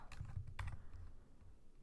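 Computer keys tapped on a keyboard while entering text for a Java Scanner program, a few quick close clicks at the start followed by fading quieter taps, with no talking.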